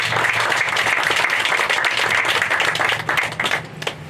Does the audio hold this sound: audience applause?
yes